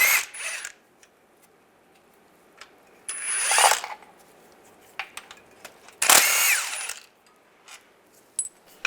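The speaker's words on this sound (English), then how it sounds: "Take these two bolts out, use a 15mm socket." A ratchet fitted with a 15mm socket works bolts loose on a 2007-2013 Chevy Silverado, giving short bursts of clicking between quiet pauses, close and crisp.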